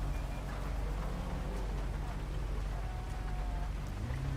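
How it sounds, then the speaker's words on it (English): Steady rain hisses across a scene in GTA 5 with a British police mod, a constant even wash of drops over a low rumbling hum, with no talk. "Well, here comes the rain."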